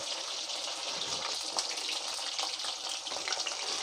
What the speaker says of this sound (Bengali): এই যে এবার আমার কাবাবগুলো কি সুন্দর লাল লাল করে আমার ভাজা হয়ে গেছে